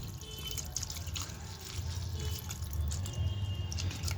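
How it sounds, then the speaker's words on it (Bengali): Varnish poured over the copper coil winding of a chimney motor sitting in a container, a soft continuous trickle and drip of liquid, close and low, with a slight rise near the end. "ভার্নিশটা এইভাবে সম্পূর্ণ জায়গা ভিজিয়ে দেব"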